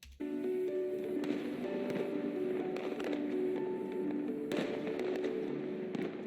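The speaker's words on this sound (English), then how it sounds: "Fireworks, very nice." Distant fireworks at Niagara crackle and pop over a steady rumbling backdrop, with a few louder bangs standing out.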